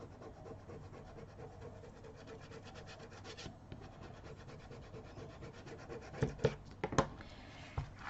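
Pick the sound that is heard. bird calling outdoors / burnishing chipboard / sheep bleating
burnishing chipboard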